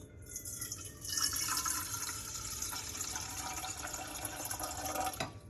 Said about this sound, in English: So I'm gonna pour it in.